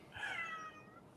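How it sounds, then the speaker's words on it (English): A single domestic cat meows once, a short rising-and-falling call of about a second, fairly faint and clear against a quiet background. "Is that a cat?"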